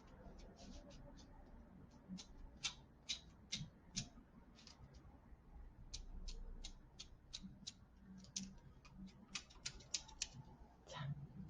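Blunt basic scissors snip through newspaper in a practice exercise, giving a string of short, crisp cuts in irregular bursts at close range over a faint background.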